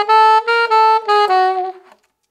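Alto saxophone playing an opening phrase, a few sustained, clean notes in a short legato line, close and solo, ending in a brief fade to silence.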